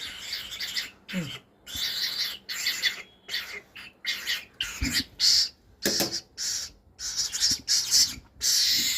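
A bird calls repeatedly from close by, loud harsh bursts broken by short pauses, with no voices.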